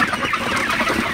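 Sonali chickens on a farm in sweltering, humid heat, clucking steadily and close together in a busy, continuous flock chatter with no voices over it.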